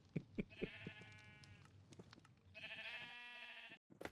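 Sheep bleating in a Minecraft-style block game, a few short clicks followed by two long, clear, nasal bleats, the second starting after a brief pause and ending abruptly, with nothing else around them.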